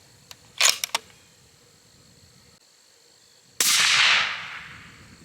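Several sharp 22 Creedmoor rifle cracks ring out close together, followed after a pause by a louder blast that decays with a long echo.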